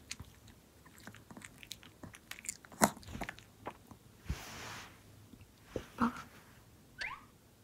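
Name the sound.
dog chewing its medicine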